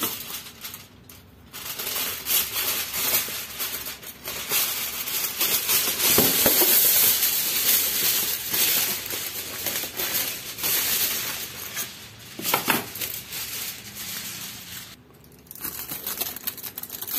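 Sublimation transfer paper being cut to size, heard as close crinkling and rustling with short snipping bursts that rise and fall over the length of the stretch.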